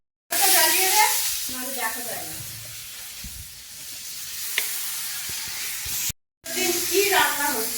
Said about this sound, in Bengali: এই যে ফ্রাইড রাইস হচ্ছে।